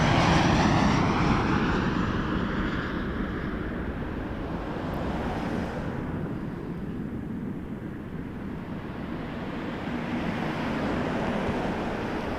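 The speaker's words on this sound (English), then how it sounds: "Oh, when a Boeing comes in with wingtips in your face." A Boeing airliner roars in on approach to land at Toronto Pearson Airport, a loud, broad jet rush that peaks early and fades into a steady rumble as the aircraft passes close overhead.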